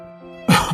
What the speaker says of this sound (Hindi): और थोड़ी खांसी हो रही है ना